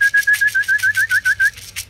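Racing pigeons in a flock during a pigeon race, giving a loud, steady rhythm of pulsing whistles and whooshes, about ten evenly spaced beats heard clearly with no talk.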